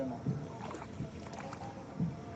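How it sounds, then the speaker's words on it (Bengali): Soft, steady water sloshing with a few gentle splashes roughly once a second, like oars dipping as a small fishing boat is rowed in rain-flooded water. "ওই যে দেখেন ভাগ্নিয়া নৌকা চালাইতেছে"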